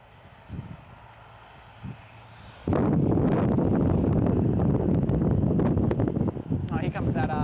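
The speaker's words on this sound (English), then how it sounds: "here comes that Embraer 500 as well" A small Embraer 500 business jet at Gold Coast Airport, heard as a sudden loud broadband roar that swells in and holds steady near the microphone, with wind buffeting beneath. A whistling tone rises near the end.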